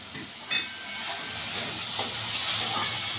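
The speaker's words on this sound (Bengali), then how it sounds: "তো মশলাটা একটু সময় ধরে কষিয়ে নিতে হবে, যতক্ষণ না মশলা থেকে একটু তেল ছাড়বে" Bengali curry spices such as turmeric, cooked down in oil with a splash of water in a pan, give a steady soft sizzle and hiss with faint scraping stirs, quiet and close, with no voices.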